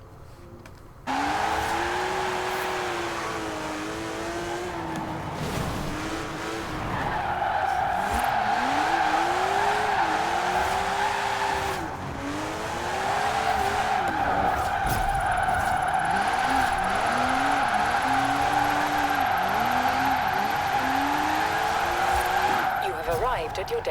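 A 2018 Porsche 718 Cayman GTS with an AWD drift tune slides through sixth gear in Forza Horizon 4, its engine droning at steady high revs over long tyre squeals that rise and fall, with a voice talking over it.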